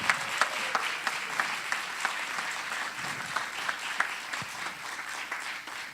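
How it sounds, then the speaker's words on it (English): A room full of people applauding at a civic event in Miami, a steady sustained wash of clapping throughout at moderate loudness, with no talk over it. "Let's give him a nice round of applause."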